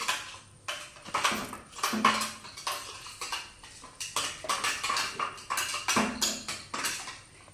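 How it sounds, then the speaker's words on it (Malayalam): Ingredients with sugar and cardamom being mixed in a bowl, a steady series of clinking and scraping strokes of a utensil against the dish, close and rhythmic, no talking. "ഇനി നമുക്ക് ഒരു കാടമൺ ആഡ് ചെയ്ത് കൊടുക്കാം. നല്ലോണം മിക്സ് ചെയ്യണം."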